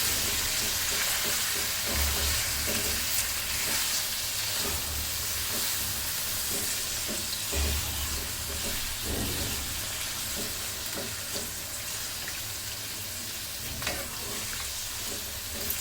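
Onions frying in oil over medium heat for beef tehari, a steady close sizzle and crackle with occasional stirring scrapes, continuous and fairly loud with no voices.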